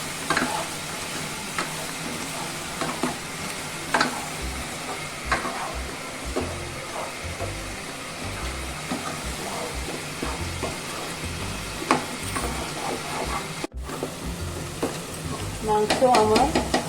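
Mutton with its juices cooked off is stirred and sautéed in a pan, a dry steady sizzle with scraping and occasional clicks, under faint background voices.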